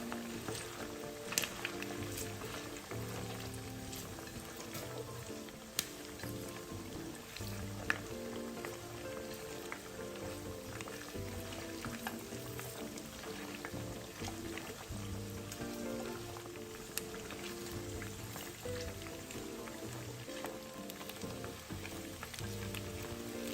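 Seaweed, tofu and pork meatballs deep-frying in a pan of hot oil, a steady dense crackle and sizzle running throughout at moderate level, with a low background music bed underneath.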